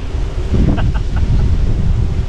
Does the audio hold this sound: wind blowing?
yes